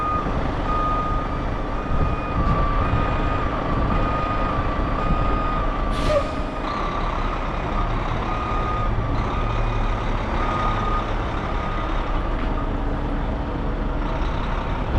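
A heavy tow truck backs up with a steady, repeating reverse alarm beeping over a low diesel idle, and a sharp hiss of air brakes bursts out partway through.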